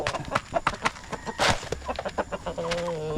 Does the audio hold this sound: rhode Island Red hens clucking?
yes